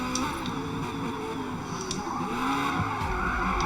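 Tyres squealing as they are heated on a Porsche 911 in the Forza Motorsport racing game, a continuous high skidding screech over a steady engine drone, loud and unbroken for the whole stretch.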